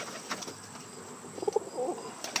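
A young Portuguese tumbler pigeon and its loft mates give soft coos and brief wing flaps nearby, with a short cluster of calls toward the end.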